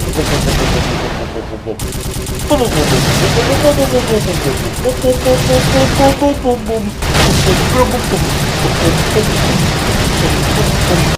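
Rapid gunfire in the shooting game Point Blank: loud, dense bursts of automatic shots that rattle almost continuously and pause briefly around the two-second and seven-second marks, with a voice and tonal game sounds mixed in.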